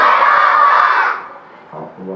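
A crowd at a religious gathering celebrating Eid Milad un-Nabi roars an enthusiastic answer to a slogan, a loud dense burst of many voices for about a second before fading into quieter murmurs and a few scattered shouts.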